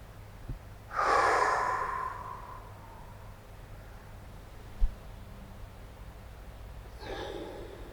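Deep breathing during a chest and shoulder stretch exercise, arms hanging low: one long, noisy breath near the start, a faint click midway, then a second breath beginning near the end, all close and without talk.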